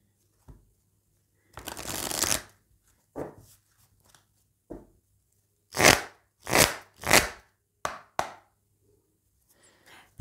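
Oracle cards being shuffled in short bursts, a long riffle followed by several quick, crisp flurries and a few light taps against a quiet background, close and clear with no talking.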